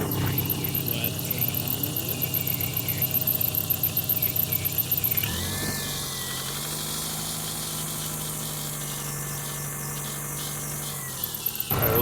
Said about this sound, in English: there's a little bit of a squeak coming from the auxiliary belts